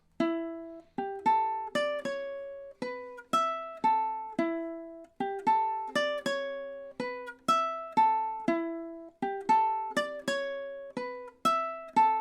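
Plucked ukulele strums a repeating chord progression in a steady, bright rhythm, each chord ringing briefly before the next, with no voices.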